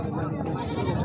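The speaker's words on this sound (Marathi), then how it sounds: "गावरान आणि होंड्याची शेळ्या जास्त आलेले आहेत बाजारामध्ये" Goats, local and Honda breeds, bleat amid a crowded livestock market, their calls mixed into a dense, continuous din of talking people and general bustle.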